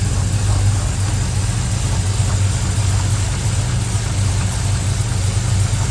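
Car engine fitted with FiTech fuel injection idling steadily, a low even rumble with a faint regular pulse, close and continuous with no talking.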